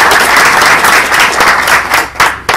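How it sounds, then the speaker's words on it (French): At a Strasbourg startup meetup in a venue, the crowd applauds the invited guests and speakers with loud, close clapping that holds steady and then tapers off in a few final claps. "Merci d'applaudir nos invités,"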